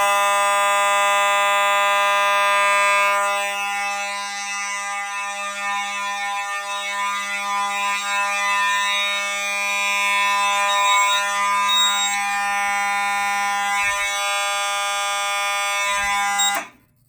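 A loud, piercing fire alarm blares continuously at close range for about sixteen seconds, then cuts off abruptly.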